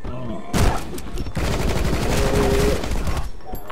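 Shotgun gunfire in the Rocketbirds: Hardboiled Chicken video game, a loud continuous burst of blasts and booms filling most of the moment, with a brief gap before the firing resumes.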